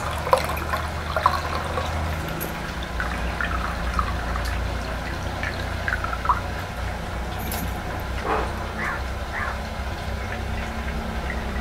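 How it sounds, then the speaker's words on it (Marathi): Water from freshly washed rice drains away in a soft, continuous trickle broken by small drips and splashes, moderately quiet and close, with no talking. "आता आपण हे पण पाणी छानसं सगळं निथळून काढूया"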